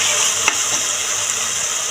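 Garlic paste and tomatoes sautéing in a pan for vegetable pulao, a dense continuous sizzle close by with a single brief knock of a utensil.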